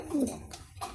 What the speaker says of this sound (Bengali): এখানে দুইটা কবুতর আছে, এই দুইটা কবুতর আমাদের পালের কবুতর